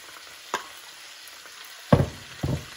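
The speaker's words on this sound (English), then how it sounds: "we're gonna be cooking these until the onions are caramelized" Minced garlic and sliced white onions frying in a pot: a faint steady sizzle with a few brief louder stirring scrapes near the end.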